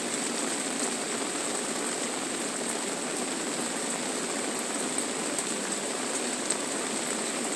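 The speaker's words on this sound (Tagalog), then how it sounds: "Ang lakas na ng ulan" Steady, dense hiss of heavy rain pouring without pause during a storm while fishing, with a faint high whine running through it and no voices.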